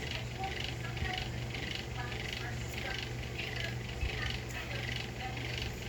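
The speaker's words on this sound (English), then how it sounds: "It's hot out there, and I got a noisy fan." A noisy electric fan runs steadily in a hot room, giving a constant broadband whir with a low hum, close and continuous throughout.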